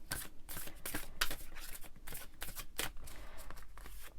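Oracle cards being shuffled up close, a quick run of papery riffles and soft slaps in an uneven rhythm, with no talking.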